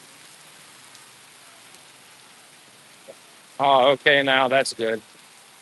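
Heavy rain pours down on a roof during a walk in the Philippines, a steady diffuse hiss running throughout, with a person speaking briefly near the end.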